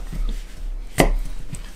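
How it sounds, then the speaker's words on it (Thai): A kitchen knife slicing garlic, whether a chef's or santoku blade, strikes the cutting board in a few soft, irregular chops, with one sharper, louder cut near the middle, close up and with no speech. "ปกติเราก็สามารถซอยกระเทียมเหมือนกับตอนซอยหอมได้ครับ"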